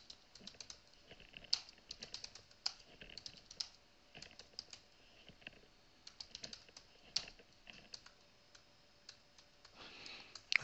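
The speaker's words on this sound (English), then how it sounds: "I'm just going to type this one." Typing on a computer keyboard while laying out text in Adobe InDesign, quiet irregular bursts of close key clicks with short pauses between runs, no voices.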